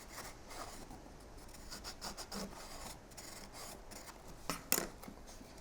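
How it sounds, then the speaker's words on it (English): Folded paper of a honeycomb gift box rubs and scrapes as it is pressed down from the inside with a dowel, giving soft intermittent rasping close by and a sharper scrape near the end. "fold that over, put it down on your surface, push down from the inside with a dowel."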